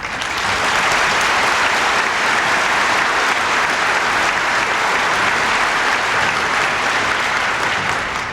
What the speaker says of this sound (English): Some of the congressmen here at the head table are applauding that also.